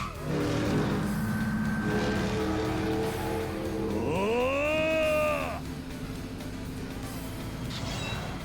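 Car engine droning steadily in the video game Yakuza 5 Remastered, with a rising whine as it accelerates midway, then settling back to a constant hum.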